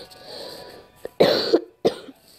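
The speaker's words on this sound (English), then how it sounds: "Sorry for the coughing." Three coughs, close and fairly loud, separated by short pauses, the second one harsher and longer than the others, with no talking.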